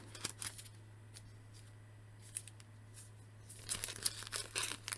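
Crinkling and tearing of plastic and cardboard packaging as a G.I. Joe 50th Anniversary 3-pack with file cards is opened, quiet scattered rustles that grow busier toward the end.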